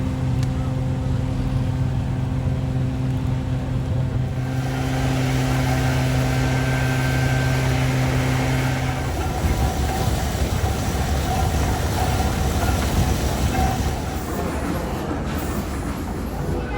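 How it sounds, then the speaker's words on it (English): Old tractor engine at the Rollag show running slowly, a steady low mechanical drone with a deep hum that fades partway, amid outdoor show noise. "this tractor caught my eye because it looked like it was running in slow motion"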